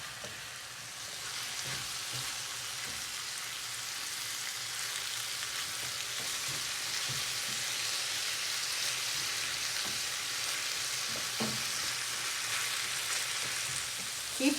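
Minced meat sizzles steadily in a pan over medium heat for keema curry, a continuous close hiss with occasional soft scrapes and taps from stirring, no voices.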